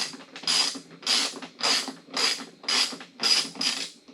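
Screws on a Clockworks windshield of a Harley motorcycle are turned with a ratcheting tool, about seven evenly spaced clicking bursts close to the mic, with no talking.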